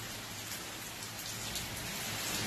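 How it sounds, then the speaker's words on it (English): Steady rain pours down outdoors at a campsite during a hike, a dense continuous hiss with no pauses or voices. "Well, the rain's coming down pretty good."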